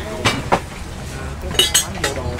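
Ceramic bowls, plates and pots clink as shoppers rummage through a secondhand market stall, several sharp ringing knocks in an irregular rhythm over busy background noise, close by.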